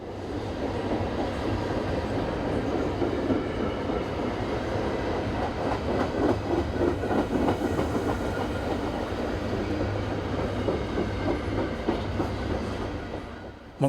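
A train rolling past on the CSX Kanawha Subdivision in West Virginia, with a steady, loud rumble and clickety-clack of wheels over rail joints that holds throughout, then eases slightly at the end, with no talk.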